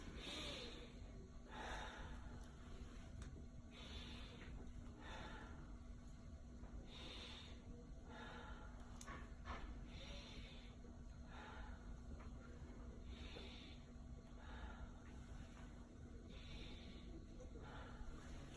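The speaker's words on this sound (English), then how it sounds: "Just breathe one deep breath for me." A patient takes slow, deep breaths, with audible airy inhales and exhales repeating every couple of seconds over a steady background hum; any slight wheeze is faint within the breathing.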